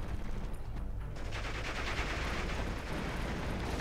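Gunfire in the Steel Division 2 war game, a dense, continuous rattle of shots under a steady wash of battlefield noise, with no clear pauses.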